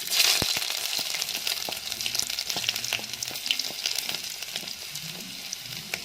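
Ginger fries in hot coconut oil in a clay pot, giving a close, continuous crackling sizzle with scattered sharp pops that ease slightly over several seconds.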